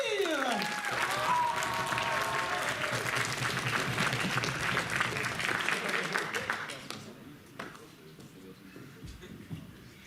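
Audience applause for a cosplayer at BronyDays 2015, a full burst of clapping that begins over a voice and music, then thins and fades out toward the end.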